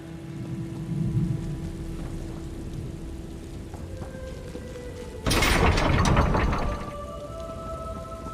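Storm in the video game Elder Scrolls Online, with a steady patter of rain and mechanical rattling, then a loud crashing burst of thunder partway through before easing back, no voices.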